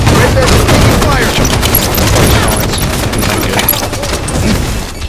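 Rapid gunfire and bursts in Halo 5 Guardians multiplayer, steady and loud throughout the battle with explosive booms mixed in and chatter from players over the game.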